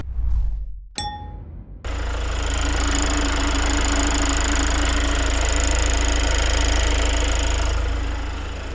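A 2023 Kia Carnival fourth-generation Hi-Limousine diesel engine idling steadily with the engine bay open, a low, even drone with a faint knocking texture, preceded by a metallic clang and ding as the hood is handled.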